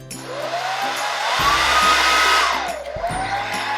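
A hair dryer blows hot air over a styled Elsa wig, a loud steady whoosh close by whose motor pitch rises and falls as it is moved, with no talking.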